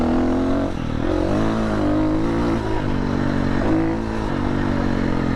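KTM EXC 350-500 dirt bike fitted with a GET ECU, engine running hard with a loud, steady, close drone and slight rises in pitch, no talk.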